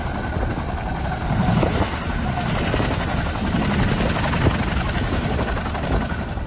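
An army helicopter flies during flood rescue work in Dharali, Uttarkashi, Uttarakhand, its rotor and engine giving a loud, continuous, throbbing drone throughout.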